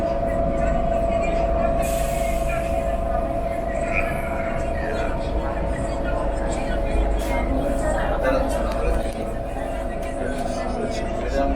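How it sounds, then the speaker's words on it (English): A Rome subway metro train runs underground, a steady loud rumble of wheels and car noise filling the whole stretch, with a brief high squeal near the start and people talking underneath. "The train."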